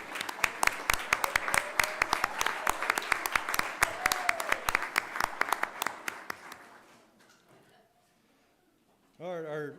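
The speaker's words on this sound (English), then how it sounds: "Parents, would you stand up for a round of applause?" An audience at a school board meeting applauds the parents, steady crowd clapping that fades out over several seconds, with a voice speaking briefly underneath and another voice entering at the end.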